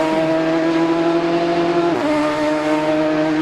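Clubman championship race car driving through a series of curves, a loud sustained engine whine holding pitch, then dipping abruptly as the driver lifts or shifts before climbing again, with no talking.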